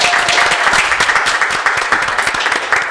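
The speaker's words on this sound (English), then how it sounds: "I want to clap it up for everybody coming out for us." Studio audience claps steadily and densely throughout at a live talk show taping, a loud continuous wash of many hands with no voices.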